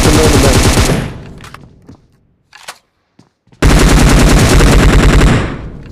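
Bursts of automatic gunfire in the battle royale game BGMI (PUBG Mobile): a loud sustained volley, a gap with a few scattered shots, then another loud continuous burst.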